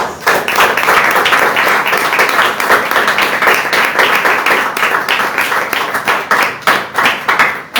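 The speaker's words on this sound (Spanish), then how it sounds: "Dale un fuerte aplauso al Rey de Reyes" Sustained applause and clapping from a church congregation, steady and loud for several seconds with no speech.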